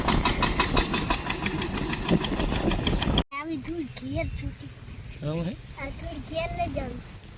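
A tractor engine idles with a steady, rumbling chug for a few seconds, then falls quiet, leaving softer outdoor sounds and distant voices.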